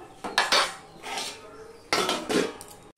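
A spoon scrapes and clatters against a pan while spice paste for an onion-and-garlic-free papaya curry is stirred and sautéed, two clusters of metallic knocks close by, with no talking.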